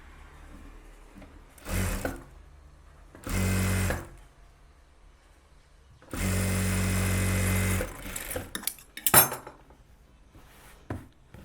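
A sewing machine stitches three blouse border pieces together in bursts: a short run, another short run, then a longer sustained run, followed by scattered clicks and handling of fabric, close and fairly quiet.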